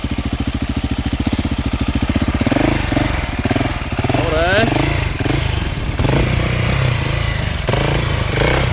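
A KTM 690 Enduro R single-cylinder motorcycle is ridden slowly, its loud close engine chugging steadily with throttle blips and revving swells, while someone speaks briefly over the engine.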